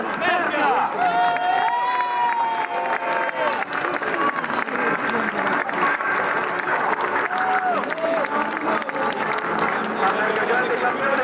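A crowd at an outdoor cross country race in San Giorgio su Legnano applauds and cheers during the awards, with a loud announcer talking over the clapping the whole time.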